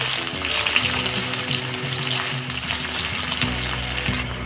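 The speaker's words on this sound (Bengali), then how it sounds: "আগে আমি বেরেস্তাটা ভেজে নেবো। ওর মধ্যে দিয়ে দিলাম পেঁয়াজ।" Sliced onions sizzle in hot oil in a pan, frying into birista for a Kolkata-style mutton biryani. The sizzle is a steady, fairly quiet crackle with no talking.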